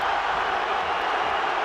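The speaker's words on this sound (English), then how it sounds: "Crowd roaring in support here." A rugby stadium crowd at a rainy Eden Park roars loudly and steadily, a dense wash of voices with no break.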